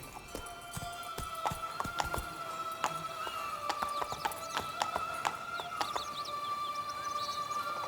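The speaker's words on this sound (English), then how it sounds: "Run, Roach. Take it easy." Horse hooves clip-clop at a steady gallop in The Witcher 3 game, with occasional neighs and whinnies over a constant tonal background and faint bird calls, loud and close throughout.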